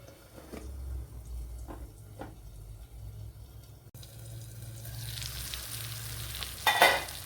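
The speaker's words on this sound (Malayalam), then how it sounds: "ചെറിയ രീതിയിൽ ഒന്ന് ഫ്രൈ ചെയ്തെടുത്താൽ മതി" Fish and tapioca cutlets lightly frying in a pan for a Kerala-style ayala mackerel and kappa cutlet, a low steady sizzle with occasional soft clinks and a brief louder crackle near the end, no talking.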